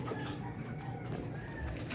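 Racing pigeons cooing in a loft, a steady layered chorus of soft low coos from a group of birds close by, continuous through the whole stretch with no talking.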